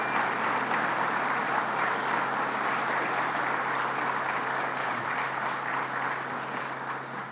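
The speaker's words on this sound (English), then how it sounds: "Let's give them a round of applause again" Crowd applause at a political announcement on preserving jobs, a steady, even wash of many hands clapping for the whole stretch, moderately distant, over a low constant hum.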